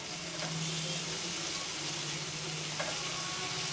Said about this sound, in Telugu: ఇప్పుడు ఆనియన్స్ కూడా వేసేద్దాము, వేపుకుందాం